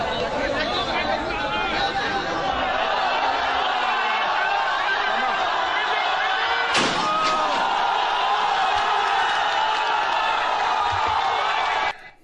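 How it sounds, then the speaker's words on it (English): A crowd of Hong Kong protesters cutting down a facial recognition tower, with steady loud chatter and voices filling the air, one sharp crash about halfway through, and scattered thumps before it ends abruptly. "Those are protesters cutting down the facial recognition towers"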